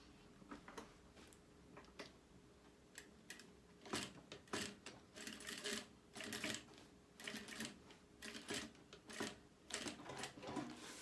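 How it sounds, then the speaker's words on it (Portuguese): A sewing machine stitching the seam of a fabric notebook sleeve runs in bursts of fast rhythmic clattering, separated by short pauses, fairly quiet and close with no talking. "E coloca aqui embaixo e faz a costura."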